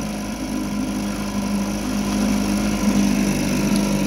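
A 1984 Evinrude 4 hp two-stroke outboard motor running steadily, a close, continuous buzzing drone with a slight rise in intensity midway and no talk.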